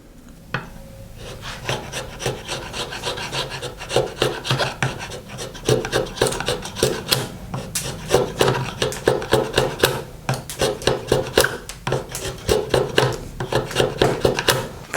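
An Irwin Marples woodworking chisel cuts into a piece of pine clamped in a vise, making repeated close, rasping scrapes and rhythmic paring strokes that continue steadily throughout.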